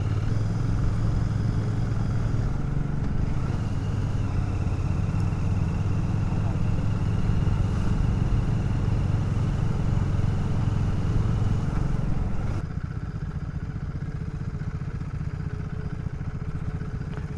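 A Royal Enfield Interceptor Bear 650 motorcycle on an evening ride, its steady engine hum and wind noise continuous under talking voices, easing off near the end.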